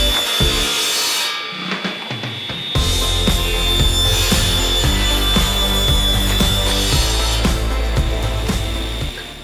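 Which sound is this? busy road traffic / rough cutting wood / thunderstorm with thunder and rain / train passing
rough cutting wood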